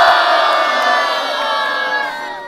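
A loud crowd in Dagupan cheers, whoops and shouts continuously for a few seconds right after a fight, a dense wall of voices fading slightly toward the end.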